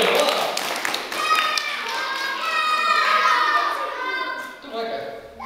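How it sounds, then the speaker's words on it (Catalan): Young children clap together during a classroom recycling activity, a quick burst of small hands patting mixed with their high chattering and shouting voices. "Un aplaudiment per dir-ho."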